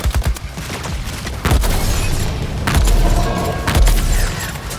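Gunfire in the Suicide Squad: Kill the Justice League video game, bursts of shots and booming impacts over a dense, loud action backdrop, arriving in several heavy waves across the clip without speech.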